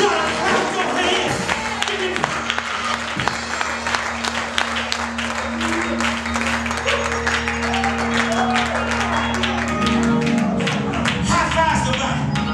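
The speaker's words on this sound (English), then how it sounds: "You ought to clap your hands." A church congregation claps along through a lively worship service, with steady rhythmic hand claps mixed with music, crowd voices and cheering that keep up loudly throughout.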